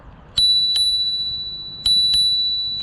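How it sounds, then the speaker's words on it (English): Two bright rings from the bell on a HiBoy S2 Pro electric scooter, each a double strike with a clear metallic tone that hangs on and fades slowly, loud and close. "you got the bell"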